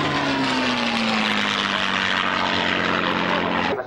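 A P-51C propeller fighter flies at the 1997 Duxford Flying Legends airshow, its engine a loud, close, steady roaring drone that holds throughout and cuts off abruptly at the end.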